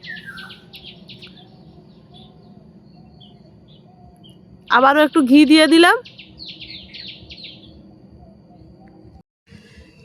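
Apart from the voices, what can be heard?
birds calling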